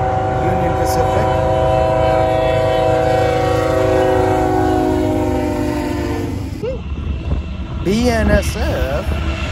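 Union Pacific freight train passing with a long, loud sustained horn blast over rumbling wheels, the horn fading near the end before short voice-like sounds and continued rail noise.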